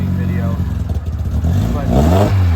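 A fuel-injected 948 Austin-Healey Bugeye Sprite engine idling nearby, then a single quick rev that climbs and drops away, with some sound mixed in that may be a voice.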